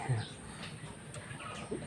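Ducks and chickens cluck and call faintly in a farmyard, with soft clucks and a brief squawk over a low background murmur.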